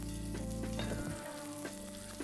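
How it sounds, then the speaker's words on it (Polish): Garlic slices sizzle quietly in a pot, a steady soft frying hiss with faint stirring clicks and no talk. "Lekko przesmażę."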